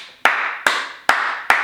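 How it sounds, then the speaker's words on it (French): Four sharp hand claps of applause, evenly spaced about half a second apart, close and crisp with short decays, with no voices. "J'applaudis. J'applaudis."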